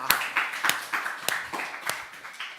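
A run of sharp, evenly spaced hand claps from a youth group at a church worship service, fairly close and loud, about eight claps in under three seconds with no talk over them.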